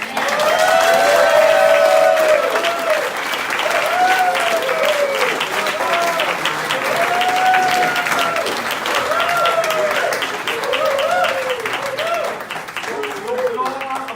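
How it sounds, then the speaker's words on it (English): An audience at a Fragile X syndrome family conference breaks into sustained applause, dense clapping that swells early and carries on steadily while a voice talks over it. "you really deserve a big round of applause"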